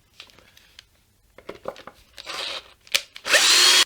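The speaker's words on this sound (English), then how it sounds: "And now I can just drill this out just like I did with the last one." Short bursts of a power drill whining against metal, drilling out a screw on an Epiphone SG guitar, building to a loud sustained run at the end, with crinkling handling noises in between.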